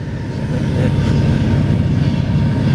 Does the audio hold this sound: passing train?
yes